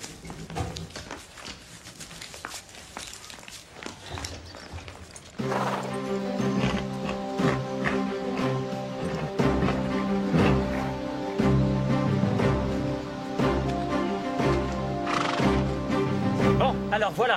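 Horses in a riding stable neigh and whinny repeatedly with hoof clops among them, close and prominent over a music bed, with voices talking at times.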